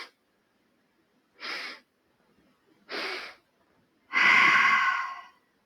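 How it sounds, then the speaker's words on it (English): Three forceful breathing bursts during a yoga Breath of Joy pranayama exercise, two short sharp inhales followed by a longer, louder whooshing exhale, close and separated by quiet gaps. "Breathe in, breathe in, breathe in, breathe out."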